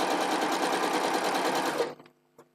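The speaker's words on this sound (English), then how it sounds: "So I'm just going to sew down from one end to the other." A sewing machine runs steadily and close by, stitching a straight seam across quilt patchwork, then stops abruptly near the end, leaving a few faint clicks.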